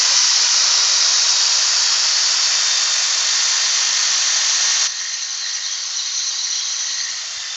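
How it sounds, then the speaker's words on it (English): Sanding around the edge of a woodturned piece on a lathe: a steady, loud, high-pitched hiss that is continuous throughout and drops slightly in level partway through. "going to sand around just around the edge here as well, just to give a border on it"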